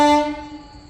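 A goods train standing at a railway station gives a loud, sustained horn blast with steady tones that fade over about a second, heard alone without talk.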